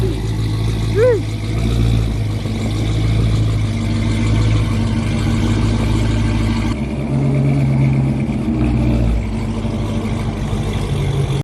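Ford Mustang GT with cold air intake and resonators and mufflers removed, its engine idling loudly and steadily with a deep rumble throughout, a brief rev near the start and a shift in tone partway.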